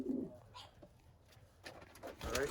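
Large king pigeons cooing close by, a few low soft coos spread across the moment with faint chirps and rustling in between.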